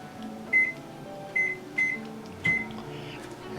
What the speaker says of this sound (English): Then you place it into the microwave and you cook it for 45 seconds.